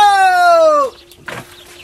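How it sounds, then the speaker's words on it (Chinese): A hen held for cooking gives a single drawn-out squawking call lasting almost a second, close and loud, followed by a faint rustle and a short scuffle. "偷偷抓了三只小母鸡"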